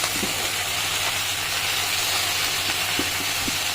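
Spinach sizzles steadily in a hot, uncovered pan, a constant crackling hiss with faint pops, close and uninterrupted.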